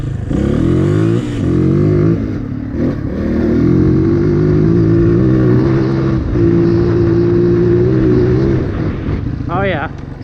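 A Honda CRF230 dirt bike engine, retuned after a bogging problem with new jetting and the snorkel removed, idles and revs smoothly with rising and falling throttle blips, loud and close, while someone talks over it.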